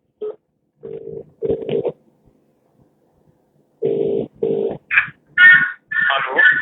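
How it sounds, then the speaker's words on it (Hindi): A phone-in call being placed to a mayor's interview programme, with electronic dialing tones and ringing pulses in short repeated bursts, loud and close, with a pause before the connection comes through. "एक लास्ट फोन मेरे साहब हम ले लेते हैं आकाश का, क्योंकि लगातार वेटिंग पे चल रहा है"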